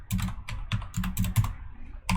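Close keystrokes on a computer keyboard tap out numbers in quick irregular bursts of clicks with short pauses between, no talking.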